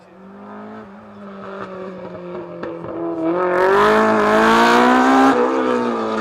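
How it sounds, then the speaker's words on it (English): An iconic BMW rally car at a spectator zone near Tobermory on Mull, engine note climbing as it approaches, revving loudly through gear changes and peaking close by before easing slightly as it passes. "This is that iconic BMW I was talking about. Just listen to this."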